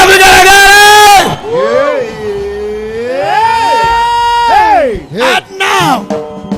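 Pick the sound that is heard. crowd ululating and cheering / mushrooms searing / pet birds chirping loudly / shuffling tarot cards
crowd ululating and cheering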